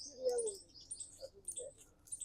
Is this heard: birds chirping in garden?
yes